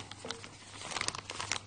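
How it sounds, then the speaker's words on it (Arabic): Plastic piping bag filled with chocolate mousse mixture being handled, a short burst of soft crinkling and rustling that grows busier toward the end, close and fairly quiet over a low hum. "هلا بستعمل الكيس"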